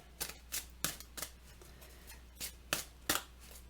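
Tarot cards are shuffled by hand in a series of soft, quiet riffling and slapping bursts, irregularly spaced over a low background hum.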